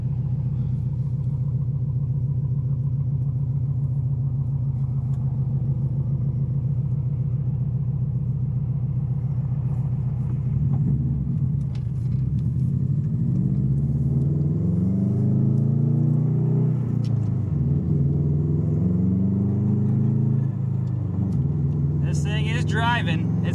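A rebuilt Subaru STi with a manual gearbox drives on the road, its engine a steady mid-pitched drone that rises and falls with revving and engine braking, running continuously under a voice.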